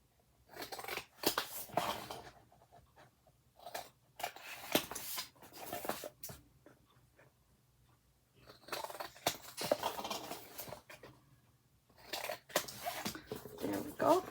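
Scissors snip through cardstock while making a 6 x 6 mini album, a series of crisp cutting bursts in separate clusters with pauses between, close and moderately loud.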